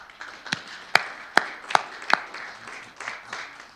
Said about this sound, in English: We've had more applause in this hearing than any hearing we've had yet.